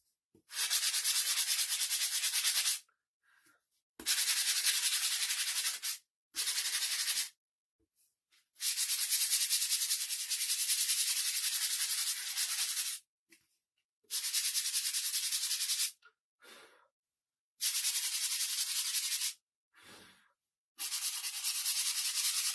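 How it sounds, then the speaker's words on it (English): Hand sanding on the back of a wooden sign holder, with a series of close scratchy bursts of rubbing separated by short silent pauses. "just sanded the back of it so it looks nice"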